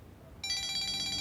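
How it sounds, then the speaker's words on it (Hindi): Phone ringing indoors in a domestic drama scene, with a bright electronic ringtone suddenly starting up and sounding steadily and loudly, no talk. "दुआ की सास का फोन आ रहा है, मरियम साहिबा का।"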